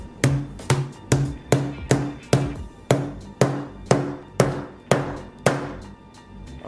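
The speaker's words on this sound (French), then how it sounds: "il annonce dans le titre qu'il est sur le point de tous les détruire avec un marteau" A hammer strikes an iPhone in a loud, close series of about eleven sharp blows, evenly spaced roughly half a second apart.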